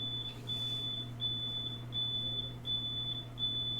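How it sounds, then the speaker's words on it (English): A gas alarm beeping, giving a steady, piercing high tone broken by rapid pulsing beeps over a low hum, continuous and fairly close. "That's like the gas alarm."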